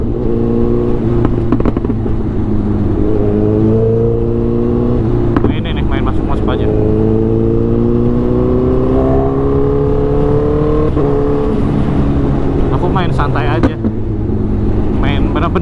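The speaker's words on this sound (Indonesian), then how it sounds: "Main di low RPM karena nggak mau terlalu ngegas, ngeri juga jalanannya rame." A Honda CBR1000 motorcycle engine idles and revs gently at low RPM on a busy street, a steady close-up drone with several slow rises and falls in pitch, while someone talks over it.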